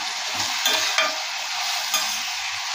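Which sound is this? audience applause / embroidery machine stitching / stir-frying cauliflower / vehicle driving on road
stir-frying cauliflower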